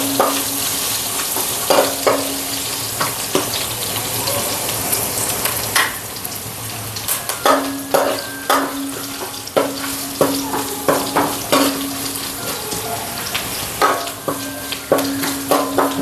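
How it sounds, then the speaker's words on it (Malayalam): Ginger, garlic and curry leaves fry in a pan for a beef curry, giving a steady close sizzle broken by repeated bursts of stirring and scraping, with no voices. "ഇഞ്ചിയും വെളുത്തുള്ളിയൊക്കെ മൂത്ത് വന്നിട്ട് ഉള്ളി ഇട്ട് കൊടുക്കണം."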